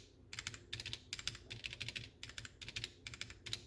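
A Womier (GamaKay) K87 mechanical keyboard is typed on in quick, close bursts of crisp clacks, with slightly rattly stabilizer noise under some keys, heard alone.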